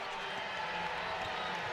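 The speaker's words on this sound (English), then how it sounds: "And listen to that crowd." A large indoor crowd at a Gonzaga versus San Diego women's college basketball game roars and cheers continuously, a dense, steady wall of noise filling an arena.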